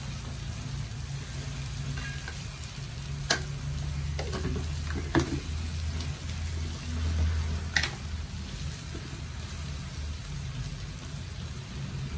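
Chili and coriander powder fry in a pan for squid masala, giving a steady sizzle throughout. Occasional clicks and scrapes of stirring sound close by, with no talking.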